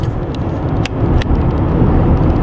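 A car cruises along a highway toward a big bridge over the Mississippi, its steady road and engine rumble filling the cabin, loud and constant, with a few faint clicks.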